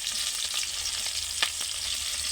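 Bay leaf and green chillies fry in oil in a pot, giving a steady close hiss with light crackles and one sharp stirring clink.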